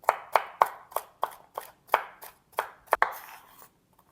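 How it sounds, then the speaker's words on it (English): A knife chops celery into small cubes on a cutting board, about eleven crisp, evenly spaced strikes close by, then a quick flurry before it stops. "We're gonna chop up the celery"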